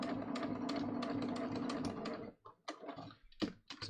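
A sewing machine stitches a neckline flange with a steady rapid mechanical whirr, then stops and restarts in short clattering bursts while back tacking, close and fairly quiet.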